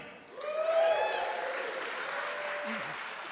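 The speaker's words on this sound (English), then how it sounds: "round of applause for Jeremy." Live audience at a tech podcast show giving a round of applause for a presenter, a moderate, fairly distant wash of clapping that swells briefly and then holds steady, with a faint voice or tone over it.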